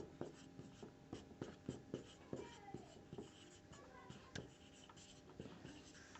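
Someone writes on a board during a geometry lesson, producing a run of irregular, quiet strokes and taps with short pauses between them, with no voice over them.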